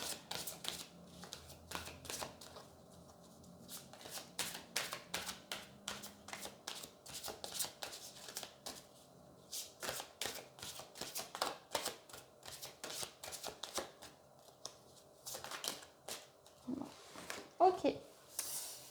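Tarot cards being shuffled by hand in a series of quick riffling and sliding bursts, with soft pauses between them and a few taps toward the end, played out alone without speech.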